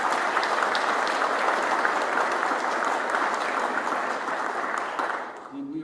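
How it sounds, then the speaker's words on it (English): A crowd at a Veterans Day service in Indianapolis gives loud, rousing applause, a thick continuous patter of many hands that holds steady before tapering slightly at the end. "Let's give them a rousing applause."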